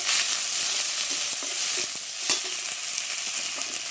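Cumin seeds, chopped onion and ginger-garlic paste fry in hot oil, a dense, bright sizzle with crackling pops and a few spoon scrapes, close and loud with no talking.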